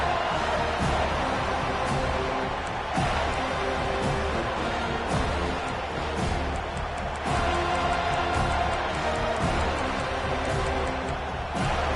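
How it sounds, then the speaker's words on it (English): A packed football stadium crowd at a live Miami versus Florida State game roars steadily and loudly throughout, a dense, continuous wall of noise with swelling surges. "listen to the roar of this crowd"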